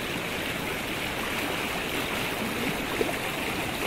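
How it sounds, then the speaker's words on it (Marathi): A monsoon-swollen stream in rural Konkan, near Rajapur, rushes past in a continuous, full-bodied gush of flowing water, close and steady, with no voices over it. "इकडे वाळाचा भरपूर पाणी वाहताय"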